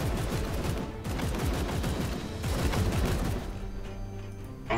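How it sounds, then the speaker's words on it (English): Video game gunfire in Warhammer 40k: Chaos Gate - Daemonhunters: loud, rapid bursts of automatic fire rattling continuously with heavy low thumps, easing into a softer droning tail at the end. "I want to shoot this thing."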